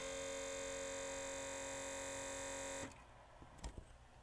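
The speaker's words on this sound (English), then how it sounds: "I hear a motor running." Harman Kardon FL8400 CD player, suspected of worn belts, with its motor running after power-on: a steady electrical hum and whine lasting nearly three seconds, then cutting off to quiet with a couple of faint clicks.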